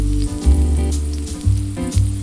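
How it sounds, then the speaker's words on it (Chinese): Five-millimetre slices of king oyster mushroom, seasoned with salt and black pepper, sizzle in a ridged steak pan, a steady close frying hiss over a low, tonal background bed. "用牛扒锅煎出条纹和炭烤的香气"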